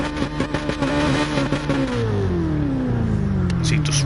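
Race car engine in a sim racing game at Goodwood, revving repeatedly in the pit lane in short rhythmic bursts, then holding a long, steady falling whine, loud and close.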